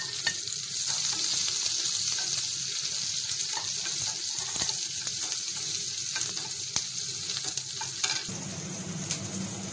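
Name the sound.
chopped onions frying in a pan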